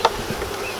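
Honey bees buzz during installation of a bee package, a brief, close, steady insect drone with a sharp burst at the start.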